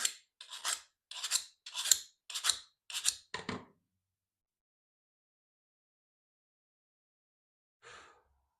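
Seven quick, even rasping file strokes taking excess metal off the back of a Stanley No. 80 cabinet scraper blade, followed by silence and one faint final stroke.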